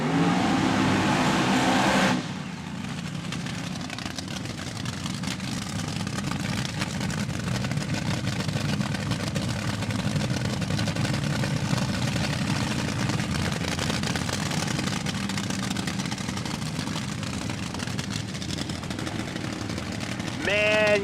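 An AA fuel altered nitro drag racing car idles at a live drag strip event, its engine giving a loud, continuous rough roar with crackling texture. The sound holds steady for about twenty seconds after an abrupt shift near the start.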